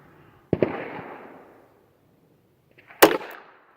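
Two separate gunshots from Quiets ammunition fired outdoors, each a sharp crack with a short decaying tail, spaced about two and a half seconds apart and fairly loud, with no talking.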